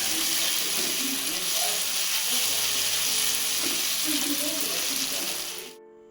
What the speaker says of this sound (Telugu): పోపు ఇదిగో ఇలా ఎర్రగా వేపేసుకున్నాను.